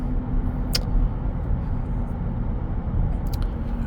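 A 2017 GMC Sierra Elevation Z71 4x4 pickup with a 5.3 Vortec and a six-speed, on all-terrain tires, cruising with a steady broadband road roar and low rumble heard from inside the cab, plus a couple of faint ticks.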